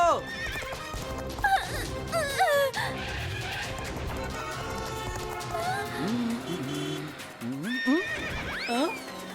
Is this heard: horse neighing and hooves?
yes